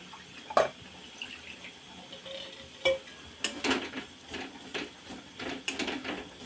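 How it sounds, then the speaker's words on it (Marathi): Masala with roasted peanuts and coconut being sautéed in a pan for a potato and val papdi bhaji, heard as quiet scraping stirs and soft clinks over a faint background sizzle. "आपण थोडासा मसाला परतून घ्यायचा आहे"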